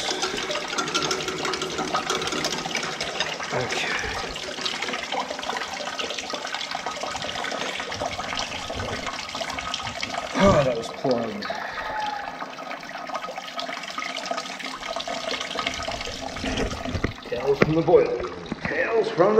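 Water rushing and gurgling through cleared, previously plugged boiler pipes in a heating system, a continuous close hiss and splash with louder surges near the end, with someone talking over it.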